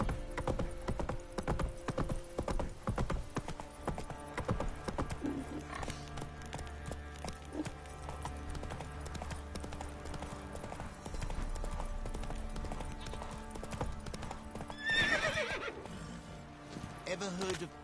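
Roach the horse galloping in The Witcher 3, rhythmic hoofbeats clip-clopping steadily throughout with whinnies, game music and effects layered beneath, and spoken voices over parts of it.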